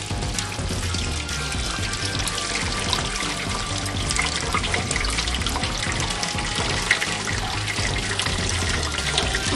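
Engine coolant and flushing liquid draining from a car's drain bolt after a citric acid cooling-system flush, a steady, continuous trickling and splashing stream with no pauses and no talk.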